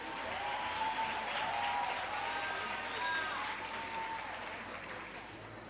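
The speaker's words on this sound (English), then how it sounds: "Please give them a round of applause," A round of applause from an audience at a university campus community safety programme event in KwaZulu-Natal, steady moderate clapping that tapers slightly toward the end, with faint voices underneath.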